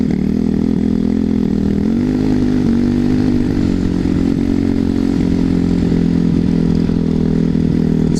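A motorcycle rides over ice, its engine droning loudly and continuously with small shifts in revs, the steady roar close throughout with no talk.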